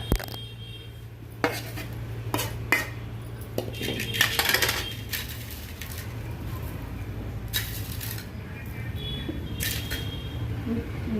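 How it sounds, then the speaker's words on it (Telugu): Cumin, tamarind and salt being ground together for eggplant chutney: irregular knocks, clinks and scraping, with a few sharper hits, over a steady low hum and no talking. "ఇప్పుడు ఇవన్నీ నూరుదాం అన్నమాట"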